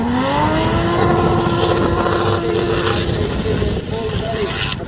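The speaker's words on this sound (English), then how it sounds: "You can hear the engines absolutely screaming here, hitting off the limiter in the Irish Drift Series as they full throttle cross the line." Drift cars at the Irish Drift Championship at Kartworld Watergrasshill scream at full throttle, engines bouncing off the rev limiter in a loud, sustained howl with wavering pitch. A commentator talks over them.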